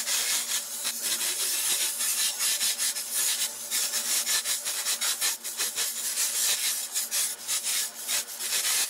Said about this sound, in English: I think I'll pass it over the sander, belt sander, clean it up a little bit first.